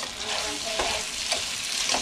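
Carbonara pasta tossed in hot fat in a pan, a steady loud sizzle and frying hiss with soft stirring and scraping strokes throughout, close up.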